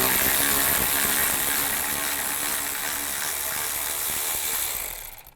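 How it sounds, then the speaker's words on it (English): A ratchet with a 10mm socket loosening bolts on a 2005-15 Nissan Xterra during thermostat replacement, rapid close clicking mixed with broadband noise for about five seconds before stopping abruptly. "Take these 2 bolts out right here, the 10mm. Use a 10mm socket."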